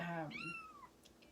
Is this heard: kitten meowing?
yes